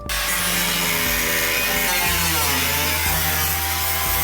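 A power cutting tool whines loudly and continuously as it slices through the sheet-metal body of a Hyundai being turned into a convertible, close up with a steady grinding drone and no talking.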